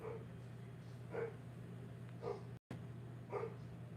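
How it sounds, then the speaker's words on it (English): A dog barks three times at a steady pace somewhere in a house during a baseball World Series watch party, the short barks moderately loud over a constant low hum of a television broadcast. "My dog won't shut up."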